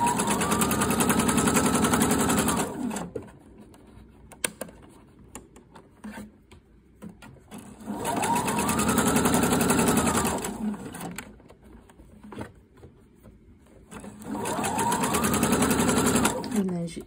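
Sewing machine stitching an invisible zipper, running in three steady whirring bursts of a few seconds each with quiet pauses between, with a person talking in the gaps.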